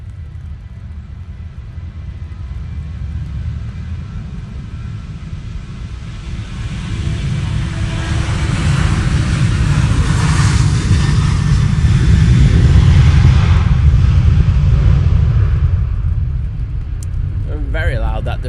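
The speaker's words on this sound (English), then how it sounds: "Very loud, that departure, I will say." A Ryanair Boeing 737-800 departs Manchester Airport in wet, windy weather, its loud engine roar swelling to a peak about midway and then slowly fading.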